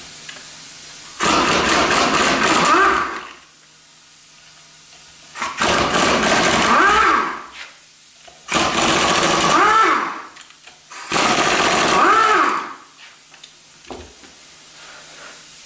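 A 3/8 impact wrench with an 8mm socket on an extension removes bolts from an H1C turbo, firing in four loud, close, rattling bursts of about two seconds each, separated by pauses.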